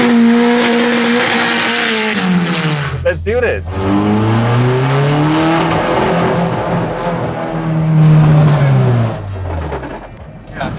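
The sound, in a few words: car drifting with tire squeal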